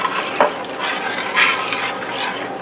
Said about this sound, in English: And you want to thoroughly stir that in. as that's coming up to a boil